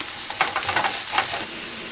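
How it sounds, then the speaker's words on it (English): Onion and mushrooms fry in a pan over medium heat for an omelet, a soft steady sizzle with brief scraping stirs, close and moderately quiet, no voices. "Add onion and continue frying. We are frying on medium heat."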